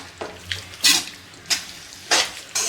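A spoon scrapes and stirs soybean chilli paste into water in a pan, giving several separate swishing strokes at a slow, uneven pace, close and clear with no voices.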